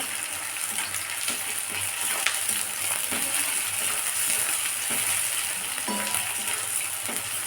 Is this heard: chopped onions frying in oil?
yes